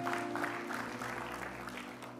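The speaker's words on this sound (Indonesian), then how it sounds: "Tepuk tangan buat Tuhan kita." A church congregation applauds during a sermon, a dense, steady wash of many hands clapping at moderate distance, continuous throughout with no voice over it.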